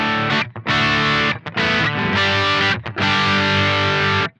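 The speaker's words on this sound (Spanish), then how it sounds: "Distorsión leve tipo Marshall, seguimos en el mismo módulo Friedman." Electric guitar through a light Marshall-style distortion with the pedal switched off, played in loud sustained chords and riffs with a few brief gaps between phrases, heard alone.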